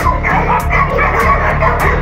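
Dogs bark in quick repeated yips and woofs, loud and close, with a steady rhythm of short bursts and no pauses in between.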